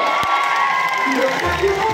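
At a campaign event, a crowd claps and cheers in a loud, continuous roar that fills the scene, with voices talking through it.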